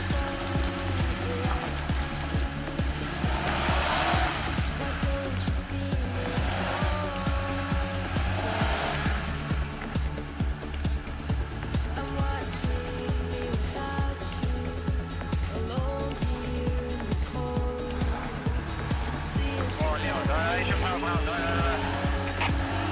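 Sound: car driving and accelerating along a rut

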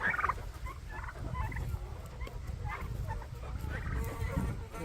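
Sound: young turkeys gobbling

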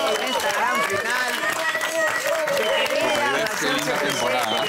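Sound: studio audience applause welcoming the contestants

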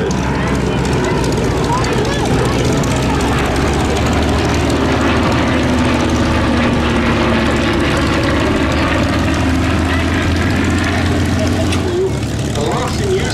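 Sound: Hawker Fury and Nimrod biplane engines at airshow

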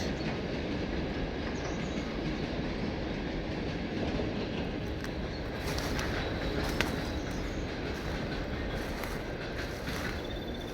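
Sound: train passing by

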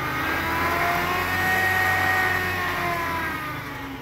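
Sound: 2394 tractor engine running

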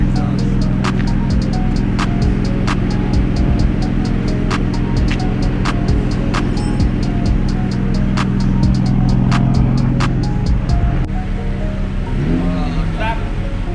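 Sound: Nissan/Infiniti G35 car exhaust

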